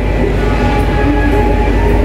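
Train at Yogyakarta station, platform 1, an airport rail link train: a loud, steady low rumble of rolling rail cars and engine drone, close and continuous, with no talk.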